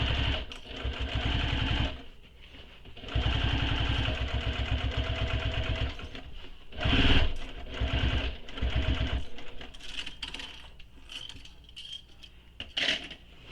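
A sewing machine works slowly around the corner of a handmade backpack, with short bursts of rhythmic stitching broken by pauses as it advances a stitch or a few at a time, close and clear.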